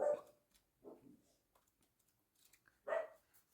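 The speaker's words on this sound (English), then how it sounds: "Who knows what they're barking at?" Dogs indoors barking, a few sharp separate barks with gaps between them, moderately close.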